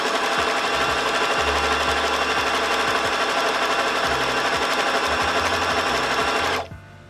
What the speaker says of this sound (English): just keep on sewing them